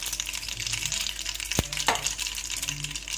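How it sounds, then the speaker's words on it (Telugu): Mustard seeds sputter in about 50 grams of hot oil while tempering for lemon pickle, a continuous close sizzle with scattered crackles and a couple of sharp metallic clinks, no talk. "50 గ్రామ్స్ వరకు నూనెను వేసుకొని వేడైన తర్వాత కొద్దిగా ఆవాలు"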